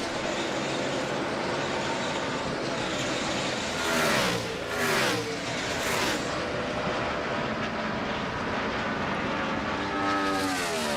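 NASCAR stock cars roar past at speed during an All-Star race, engine whines sweeping down in pitch as several pass by around the middle, over a steady race-track drone.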